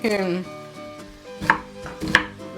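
Green chilies are cut with a knife on a board, giving two sharp chopping knocks a little over half a second apart after a brief tonal sound at the start, with no one speaking.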